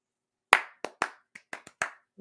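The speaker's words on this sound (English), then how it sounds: "Clap for us." Hand clapping, a handful of separate sharp claps at an uneven rhythm in an otherwise silent room, close and crisp, followed by a brief low sound at the end.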